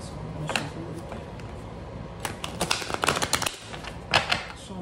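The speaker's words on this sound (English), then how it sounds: "So I'm gonna shuffle it again." Quick papery riffles and clattering snaps of cards being shuffled, in two short bursts close to the microphone, with a brief pause between.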